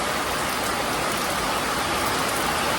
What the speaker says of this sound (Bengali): দেখো কি জোরে বৃষ্টি হচ্ছে